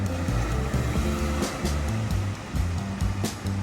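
Steady ocean surf rolls and washes outside an oceanfront room at The Breakers in Palm Beach, a continuous broadband roar with occasional brighter wave breaks and a low hum underneath.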